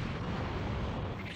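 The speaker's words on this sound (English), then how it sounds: "Special beam cannon!" Special Beam Cannon energy attack from Dragon Ball Sparking Zero: a continuous roaring blast with heavy low rumble and broadband hiss, sustained evenly throughout with no pauses or voices.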